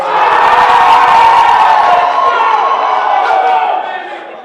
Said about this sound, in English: I'm gonna forget how loud people cheer